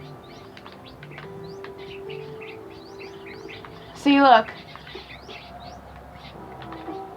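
Parrots in a play house give a short burst of loud, rising chirps and squawks near the middle, with softer scattered tweets before and after, while a person talks through much of it.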